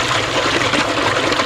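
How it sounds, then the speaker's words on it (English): Water gushes under pressure from the opened bottom drain of a koi pond, a loud, steady broadband rush that runs unbroken and close up for the whole moment, with no voices. "You can see the pressure that the water comes through with."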